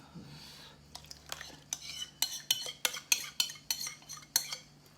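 A spoon stirs soup in a pot, scraping and clinking against the side in a quick irregular run of a dozen or so taps that grow louder midway, close and with no voices.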